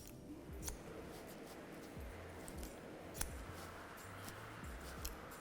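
Barber's hair-cutting shears snip through hair in a steady series of short, crisp cuts, close and fairly quiet, with no talking.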